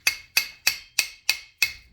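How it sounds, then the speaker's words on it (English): A brass hammer taps a pin into a Traction Concepts limited-slip differential insert: six sharp, evenly spaced metallic taps about a third of a second apart, each ringing briefly and decaying, close and alone with no talk. "And then you throw your pin in there, and this is where my brass hammer comes in."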